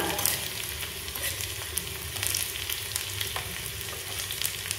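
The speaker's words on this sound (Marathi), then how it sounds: "बारीक कट करून घेतलाय, लसूण जरा लालसर होऊन द्यायचा।" Finely chopped garlic sizzles steadily in hot oil in a pan, frying until it turns reddish for a spinach bhaji, a continuous close crackle with small pops and no talking.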